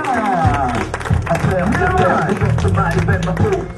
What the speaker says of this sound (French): Tout le monde applaudissements